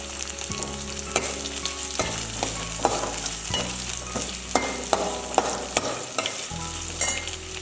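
Garlic cloves, with ginger, frying in oil in a pan for a spicy sour curry make a continuous close crackling sizzle, with scattered pops and stirring taps and scrapes throughout, no voices.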